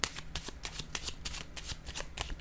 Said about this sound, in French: je vais piger une autre carte ici, avant que ça sonne